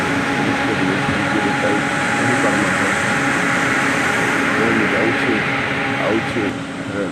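A passenger train rolls past in rural Odisha, a steady mechanical rumble and rattle of wagons holding for several seconds at fairly close range, with a faint voice under the noise.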